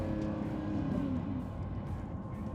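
A 2025 Lamborghini Revuelto engine roars loud and close while driving, with a swelling rev that peaks and then eases back into a steady drone.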